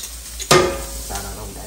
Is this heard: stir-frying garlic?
yes